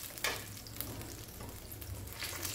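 Fish shallow frying Bengali style in a small amount of leftover oil, a soft continuous sizzle with a few sharper pops and spatters, fairly quiet and close, with no one talking.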